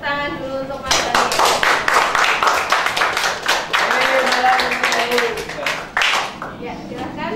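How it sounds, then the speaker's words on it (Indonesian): Classroom audience of students clapping hands for a classmate during a teaching session, a burst of uneven claps with voices talking over and around it, fading out near the end. "tepuk tangan dulu untuk Mas Hanif."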